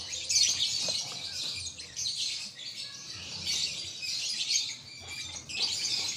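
A lovebird chirps and tweets in quick, shrill bursts, bright and close, repeated throughout with short pauses between phrases and no talking.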